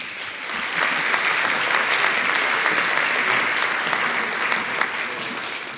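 Loud audience applause with cheering at a West Covina State of the City gathering, a thick, continuous wash of many hands clapping at close range, holding steady for several seconds without speech.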